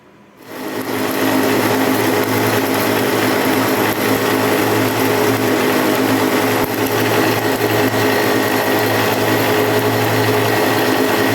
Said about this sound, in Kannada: ಸೊ ಅದಕ್ಕೆ ನಾನು ಈಗೇನೆ ಗ್ರೈಂಡ್ ಮಾಡ್ತೇನೆ